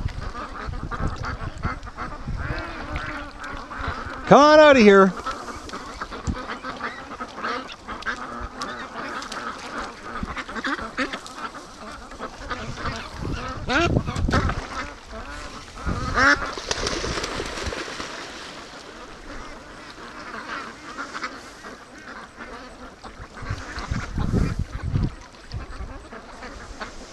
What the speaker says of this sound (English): Come on, ducks, let's go for a swim down the lake.